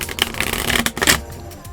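Tarot cards being shuffled by hand, a close, busy run of papery riffles and slaps for over a second that stops abruptly, leaving quiet room tone.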